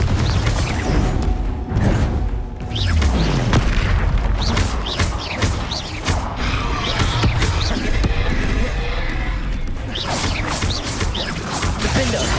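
Confringo explosion spells go off in Hogwarts Legacy amid duelling, with repeated loud booming blasts and crashes layered over magical whooshes and combat effects, dense and close.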